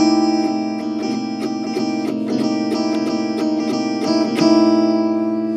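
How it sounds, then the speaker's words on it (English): Unmuted chords strummed repeatedly on an AEROGUITAR ring out in a steady, rhythmic pattern of bright, sustained, effects-laden strokes with no talking. "This chord will sound like this on the AEROGUITAR."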